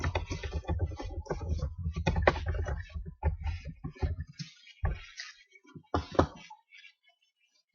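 Email and password being typed on a computer keyboard: a steady run of close key clicks that thins out into a few scattered taps, then stops.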